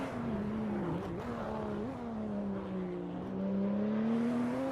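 Race car engine revving in a sim racing game at Laguna Seca, a loud continuous whine whose pitch rises and falls through gear changes and corners.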